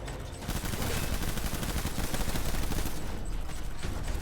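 Sustained heavy gunfire in Death Stranding, a loud continuous barrage of rapid shots filling nearly four seconds before easing off, with no voices.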